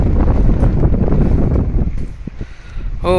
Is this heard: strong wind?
yes